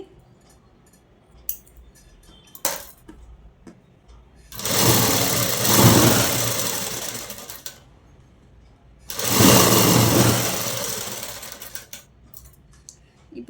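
Sewing machine running in two sustained bursts while stitching a straight seam on a saree blouse, each run lasting about three seconds, with quiet handling clicks and rustles between and no talking.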